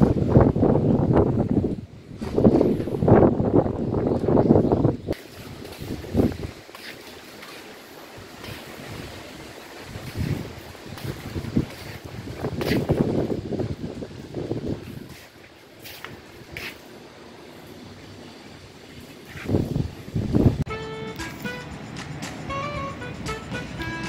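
Typhoon wind gusting across an Okinawa balcony, roaring in uneven loud surges with buffeting on the microphone, easing between gusts, no voices.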